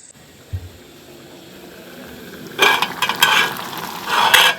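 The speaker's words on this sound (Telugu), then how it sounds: "కర్రీ ఉడుకుతుంది." Curry simmering in a pan after tempering, a soft bubbling sizzle that starts faint and swells into louder crackling bursts near the end, with a brief thump early on and no voices.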